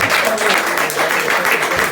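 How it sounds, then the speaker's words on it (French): Applause from an audience at an open-mic stage night, a steady dense clatter of clapping hands lasting the whole moment, with faint voices mixed in. "Moi je dis chapeau, on peut les applaudir."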